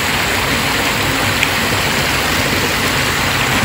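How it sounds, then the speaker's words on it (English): A small waterfall on a stream running into Hogs Back roars as a steady, loud, close wash of splashing water, continuous and unbroken throughout. "So this is our stream into Hogs Back, and there's a little, kind of like a little waterfall thing there."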